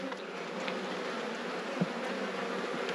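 Honey bees from an open rescue hive with small hive beetle give off a dense, continuous buzzing drone. It is close and steady, with a faint thump partway through.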